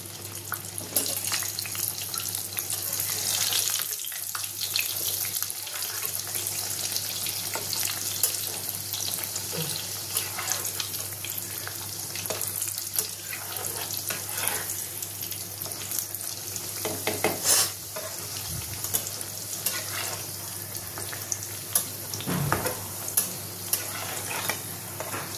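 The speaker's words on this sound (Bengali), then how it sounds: "দেখো তেলটা আমাদের গরম হয়ে গেছে, এবার পরোটাটা ছেড়ে দেবো।" A stuffed vegetable paratha frying in hot oil, a continuous close hissing sizzle with occasional spatula scrapes and a few sharper crackles, no talking.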